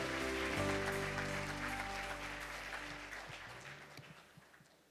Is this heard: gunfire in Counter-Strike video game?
no